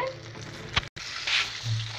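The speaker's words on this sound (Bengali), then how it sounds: "এখন আমি চুলার আঁচটা কমিয়ে এইটিকেও ভেজে নেব" Chicken frying in a pan over a stove gives a soft, steady sizzle with occasional stirring clatter and a short break partway through.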